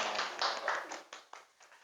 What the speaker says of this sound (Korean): 우리 서로에게 환영의 박수 하겠습니다